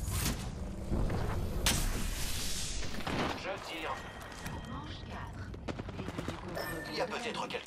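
Gunfire in the Apex Legends video game: dense bursts of automatic fire and rapid shots, loud and close, with thumps and impacts scattered throughout.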